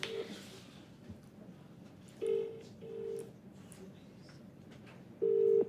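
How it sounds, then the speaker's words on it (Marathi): A phone call on speakerphone during a stand-up comedy crowd-work set, with several short, clear ringback tones sounding in a quiet room at intervals. "फोन लावशील स्पीकरवर टाकायचा फोन"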